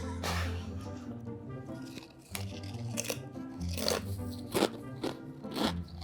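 Small nacho cheese Doritos crunch close up as someone bites and chews, sharp irregular crackles repeating over several seconds with a few scraping, rustling moments.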